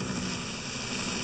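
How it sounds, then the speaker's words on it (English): Steady droning rotor and engine noise of a helicopter in the video game Half-Life, continuous and fairly loud, with no talking. "We've also got a helicopter still."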